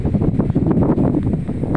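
Wind gusting through Sanjay Gandhi National Park, a steady loud rushing roar buffeting the microphone throughout with no pauses, alone without voices.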